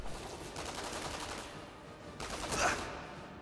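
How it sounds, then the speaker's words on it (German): Gunfire rattles in the shooter Sniper Elite V2, a few rapid bursts at moderate distance, with the loudest volley near the end, all over a low background rumble. "Irgendwas ballert auf dich."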